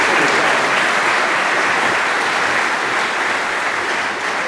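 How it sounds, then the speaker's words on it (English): A lecture-hall audience gives sustained, loud applause at a computing festival keynote, with dense continuous clapping that barely fades over a few seconds. "give them a round of applause"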